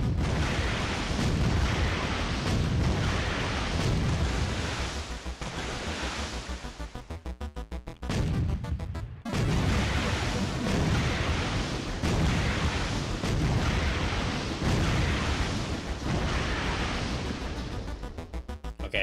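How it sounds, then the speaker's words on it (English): A ship being destroyed in the God Hand video game: a long series of loud, roaring explosion blasts with rumbling low booms, broken by a brief drop near the middle before the blasts resume. "Okay, I finally destroyed that ship."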